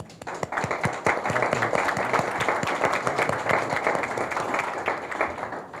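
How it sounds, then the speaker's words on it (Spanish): Sustained audience applause welcoming a guest at a senators' event, dense clapping from a sizeable crowd that rises quickly and holds steady, with a faint voice at the very start. "un caluroso aplauso."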